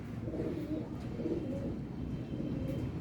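Low, soft cooing of female Golden pigeons repeats in a steady murmur, close by, with overlapping throaty calls and no talking.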